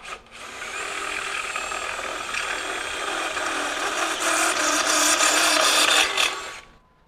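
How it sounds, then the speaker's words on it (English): A DeWalt DCD794 Atomic 20V brushless cordless drill driver bores with a step bit, giving one close, steady whirring grind that builds slightly over about six seconds before stopping. "So you're drilling holes in firewall, drilling holes in tubing, whatever it may be, even step bits."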